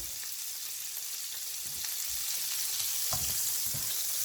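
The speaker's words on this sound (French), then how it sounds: "on va faire revenir un petit peu de beurre, hein, vraiment un tout petit peu. Voilà. Pour faire revenir les champignons." Butter and mushrooms sauté in a pan for a veal blanquette, giving a steady close sizzle with a few sharper crackles and pops. The sizzle grows slightly louder partway through, and no one speaks.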